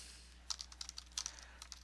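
Typing on a computer keyboard while entering text in a word processor: quick, light key clicks in short bursts, close and fairly quiet, with no voices.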